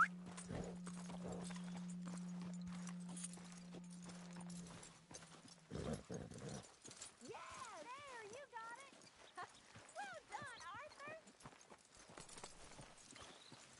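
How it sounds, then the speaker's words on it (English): Horse hooves clip-clop in the Red Dead Redemption 2 video game, faint and steady beneath someone talking, with a low hum early on and whistled game sounds later. "It's a big horse."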